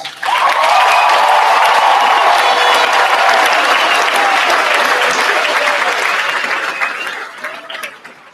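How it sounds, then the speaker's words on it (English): A large crowd at a high school graduation ceremony gives a loud, sustained round of applause with some cheering, steady for several seconds before fading out toward the end. "Class of 2016, would you give them one more round of applause?"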